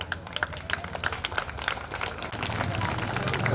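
An audience claps during a stage programme at Chaitanya College, Pamgarh, Chhattisgarh, a brisk patter of many hands that builds to a denser, louder applause toward the end, with voices underneath.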